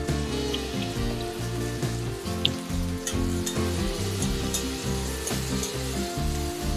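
Chopped onions fry in a pan over a medium gas flame, giving a dense, steady sizzle with scattered crackles and spits, up close, while low music plays beneath.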